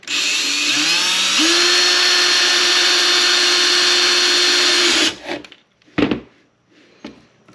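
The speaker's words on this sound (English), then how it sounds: "take your drill, and for this part you got to be really careful not to drill past this first layer" A power drill bores into a panel of a kayak shipping crate, a steady loud whine that rises in pitch as it spins up and holds for about five seconds before stopping, followed by a few short handling clatters.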